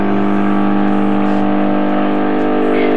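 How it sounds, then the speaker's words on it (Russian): A Zespresso capsule espresso machine running while brewing coffee, a loud steady pump hum with a strong buzzing tone that holds evenly throughout, close up and with no voices. "Теперь мы можем спокойно включать машину и готовить кофе"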